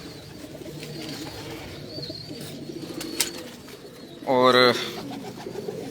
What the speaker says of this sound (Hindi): ये जो गैस वाले फिरोजपुरी कबूतर, गैस वाले जिनको हम बोलते हैं